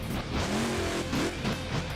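Monster truck Raisin Kane in the BeamNG.drive game, performing a freestyle run at a Houston 2015 stadium event, its engine revving with rising and falling pitch over a dense, steady roar, loud and continuous.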